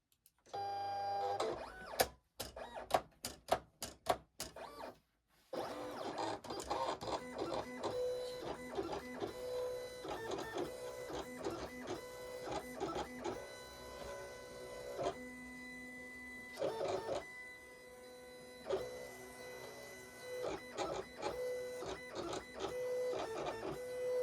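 A Silhouette Cameo 4 vinyl cutter cuts an SVG wallet pattern: a few sharp clicks at the start, then a steady mechanical whirring with repeated motor buzzes and shifting tones, continuous and close with no talk.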